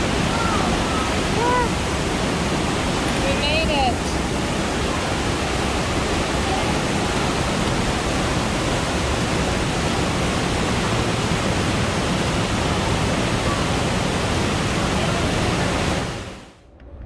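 Zapata Falls waterfall at the end of a creek-crossing hike, a loud steady broadband roar of falling water filling the scene throughout, with a brief voice speaking near the start and the sound cutting off abruptly at the end.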